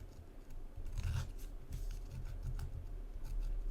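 Dollar Tree paper being distressed for a handmade journal, a continuous close crinkly scraping and rustling texture with short crunchy bursts, heard alone and fairly quiet.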